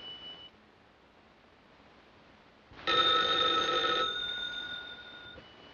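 Old telephone bell in a 1932 radio drama: a short faint tone, a quiet pause, then one loud sustained metallic ring for about a second that fades off, with nobody speaking.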